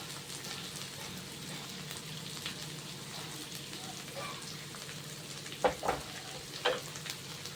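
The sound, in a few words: carrots and green chillies being tossed in a pan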